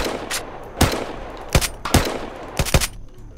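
Gunshots aimed at a guard in the survival game Unturned: a handful of sharp, loud single cracks spaced irregularly, some in quick pairs, over a quiet background with no talk.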